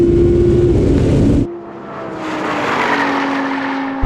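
Porsche Cayenne Turbo GT and Audi R8 in a rolling drag race from 50 mph, a loud engine roar that drops sharply before climbing again in a rising, sustained pull.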